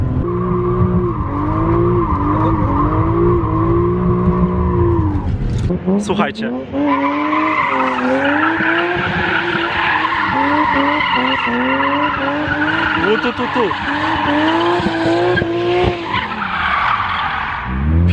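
Tires squeal loudly and continuously as a BMW M3 E36 drifts on Warsaw streets, the engine revving and the screech rising and falling, with someone talking over it.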